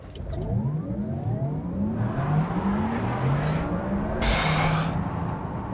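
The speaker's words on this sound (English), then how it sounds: "What does it feel like when you unleash 750 brake horsepower from a standstill like this?" A Porsche Taycan electric sports car with 750 brake horsepower accelerates hard from a standstill, heard from inside, the pitch climbing and dropping with each shift.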